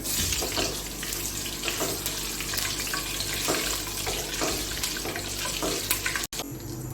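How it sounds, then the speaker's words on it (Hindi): Cumin seeds, a tablespoon of them, fry in a generous amount of hot oil for an achari aloo sabji, giving a steady, close sizzling hiss with faint crackles throughout. "अब इसमें डालूँगी मैं ज़ीरा 1 टेबल स्पून और इसको थोड़ा सा फ्राई करूँगी"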